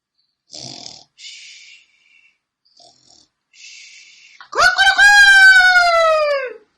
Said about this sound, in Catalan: Cada dia al dematí canta el gall quiquiriqui.